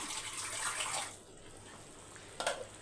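Half a glass of water poured over a quarter piece of coconut to rinse it while cooking an egg biryani curry, a steady splashing pour lasting about a second, then quiet with a brief faint splash near the end.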